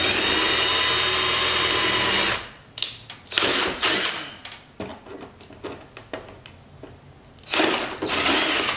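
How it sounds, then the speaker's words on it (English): A power drill whines steadily, then stops and starts in short repeated bursts as it bores holes for a carbon fiber car front splitter, ending with another sustained run. "Drill these holes."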